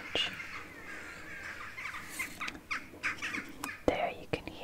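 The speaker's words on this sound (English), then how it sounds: "There you can hear jackdaws and blackbirds." Birds call in short, sharp bursts at a moderate distance, jackdaw chacks and blackbird notes scattered irregularly over quiet background noise.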